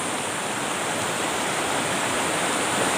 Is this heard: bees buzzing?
no